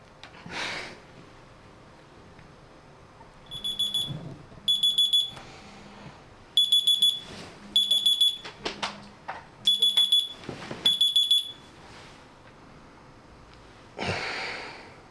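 An alarm clock beeping in a French film scene being shot: several intermittent groups of shrill electronic beeps repeating over about ten seconds, with rustling and handling noises before and after.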